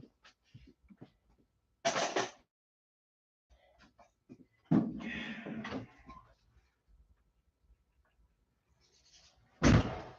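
A door in a workshop opening and closing, heard as a few separate knocks and bangs with a loud final thud, spread across quiet gaps.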